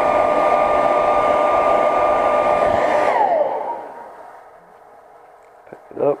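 Heat gun blowing hot air to set paint on a fishing lure: a loud, steady whooshing roar with a whine runs for about three seconds, then winds down as it switches off, leaving quiet room tone and a brief knock at the end.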